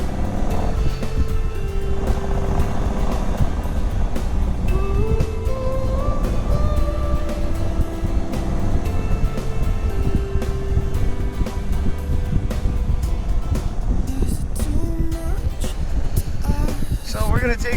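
A Kawasaki Drifter 1500 motorcycle on the move sends a loud, continuous engine drone with shifting pitch and heavy wind buffeting across the whole ride, and a voice speaks over it.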